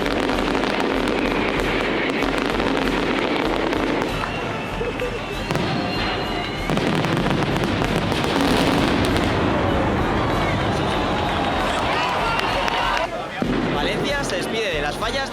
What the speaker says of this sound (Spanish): Tenemos todos los días por la noche diferentes castillos de fuegos artificiales